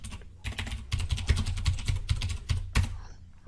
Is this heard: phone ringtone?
no